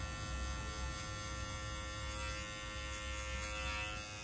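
A barber's electric hair clipper buzzes steadily while cutting hair during a layered haircut with a number 4 guard, a continuous close hum with no talk.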